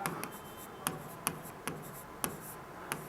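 Marker or chalk strokes on a classroom board during a reasoning lesson: faint scratching with several sharp taps spaced through it, quiet and close.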